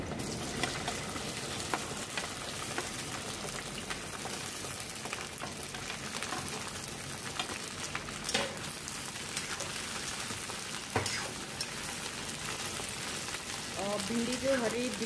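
Okra (bhindi) crackles and sizzles steadily as it fries in hot oil, a dense continuous spitting hiss that keeps up for the whole stretch at moderate volume, with occasional clatter near the end.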